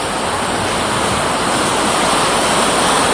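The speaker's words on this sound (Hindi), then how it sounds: "बाणसागर बांध के सभी 10 गेट खोल दिए गए हैं और देखिए कितना उफान है पानी में" Floodwater surging through the ten opened gates of the Bansagar dam in Shahdol after heavy rain, a loud, continuous roaring rush of water that stays steady and close throughout.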